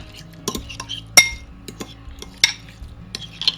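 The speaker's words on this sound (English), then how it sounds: "And then I'm going to mix all this." Chunky egg salad is mixed in a bowl with a utensil, producing a run of sharp close clinks and scrapes of metal against glass at an irregular pace, with no talking.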